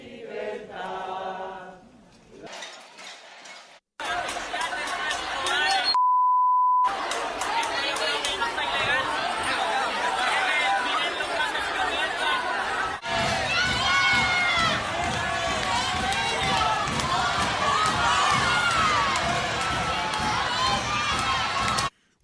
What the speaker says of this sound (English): That sound you just heard is coming from San Juan, Puerto Rico, where protests continued over the weekend